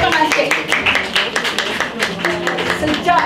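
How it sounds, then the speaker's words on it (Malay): Dense, close crowd clapping at a Hari Raya reseller gathering, steady rapid hand claps running throughout at high level. "Tepuk tangan sikit."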